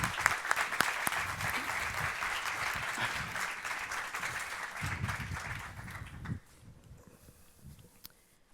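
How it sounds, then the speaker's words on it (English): Audience applause at a live launch event for a development report, a dense, steady clapping that fills the room for about six seconds and then drops away to sparse, fading claps. "Should we give them a round of applause?"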